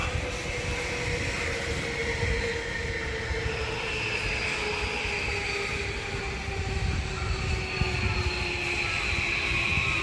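A train on a Tokyo line in Setagaya rumbles past steadily with a continuous low roar and rising and falling tonal whine from the wheels and motors, fairly close.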